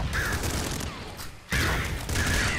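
Shotgun blasts in the Nuclear Throne game, loud dense bursts of fire in a couple of clusters with a brief lull between, busy game noise throughout.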